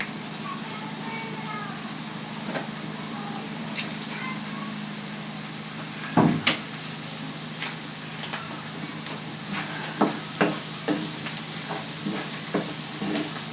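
Spices, garlic and chili fry in a pan for a teherke cucumber mash with dried small shrimp, with a steady sizzle and hiss and intermittent scraping clicks of stirring throughout.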